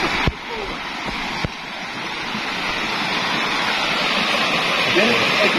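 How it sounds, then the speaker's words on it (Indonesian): Fast, heavy river water rushing past a bathing and drinking-water spot, a loud, constant roar of flow that builds slightly, with a couple of sharp knocks early on. "Ini airnya sangat deras sekali."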